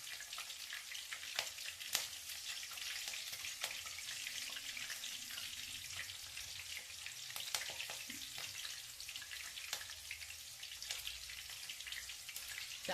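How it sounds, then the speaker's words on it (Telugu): Flattened rice (poha) frying in hot oil for a snack mixture, giving a steady, close sizzle with scattered sharp crackles and a few faint scraping stirs. "ఇవి వేగిపోతున్నాయి"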